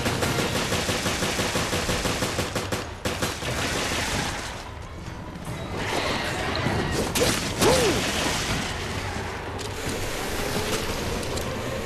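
Distant enemy gunfire crackles through a dense, noisy game soundscape in Resident Evil: Revelations, scattered shots with rumbling ambience and a wash of surf-like noise, no talking.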